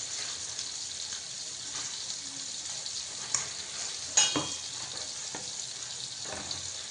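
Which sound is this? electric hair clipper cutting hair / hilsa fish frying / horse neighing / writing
hilsa fish frying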